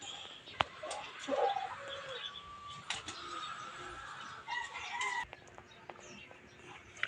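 Chickens cluck and squawk intermittently at a moderate distance, with a few sharp clicks and knocks over a quiet background.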